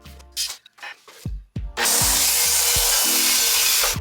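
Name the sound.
sawing IKEA bookcases down to fit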